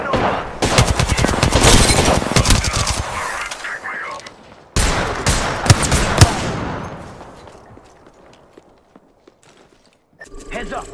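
Dense automatic gunfire from the Apex Legends video game, rapid loud volleys in two main bursts separated by a short pause, then fading echoes, with game voices and footsteps mixed in.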